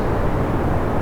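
Kerbal Space Program rocket launching: a steady, dense low roar of engine thrust fills the whole second, loud and even with no pauses or talk.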